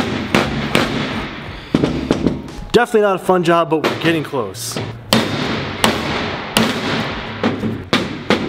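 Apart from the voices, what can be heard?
hammering ball joint into car suspension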